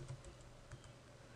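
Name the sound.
typing on a computer keyboard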